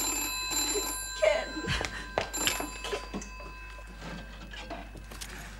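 A telephone bell rings in an indoor drama scene, with repeated ring bursts under a faint steady hum and a brief spoken word.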